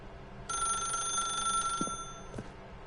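An electronic telephone bell rings in The Stanley Parable, a bright sustained trill for about a second and a half, followed by a couple of short clicks and a brief second ring burst, heard alone.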